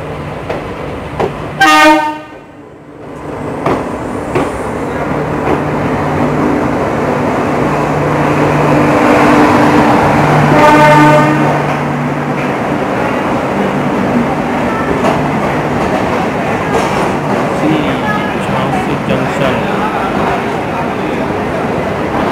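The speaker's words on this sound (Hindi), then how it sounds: "दोस्तों हमारी ट्रेन पहुंच चुकी है झांसी जंक्शन" Punjab Mail express train arriving at Jhansi Junction, a loud horn blast up front, then a long steady rumble and clatter of coaches rolling close by, with a second horn partway through.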